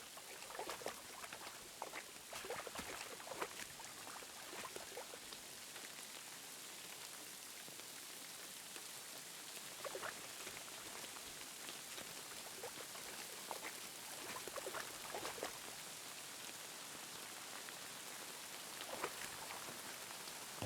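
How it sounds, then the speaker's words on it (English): Steady rain ambience in the medieval world of Kingdom Come Deliverance 2, a dense continuous hiss of drops on surfaces with scattered louder patters, even and unbroken throughout with no talk. "Ambience of the freaking rain."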